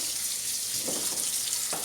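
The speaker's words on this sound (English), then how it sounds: "putting some cold water over your kale to stop the cooking process" Cold tap water runs over blanched kale in a sink, a steady faint hiss of flowing water with a couple of brief splashier surges.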